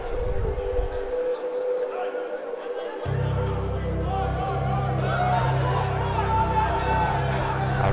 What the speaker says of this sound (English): A rumbling emerges from the crowd as a champion.